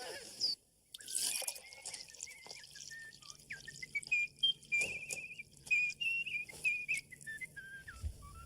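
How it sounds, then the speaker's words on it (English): A high, clear whistle plays a short wavering tune of repeated notes, fairly close, over faint background noise and occasional soft knocks. "That's a nice whistle."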